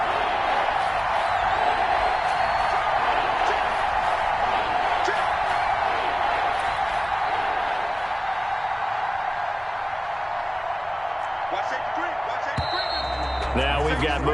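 Stadium crowd in an American football video game, a loud, constant roar of noise that fills the whole stretch, with some thumps near the end.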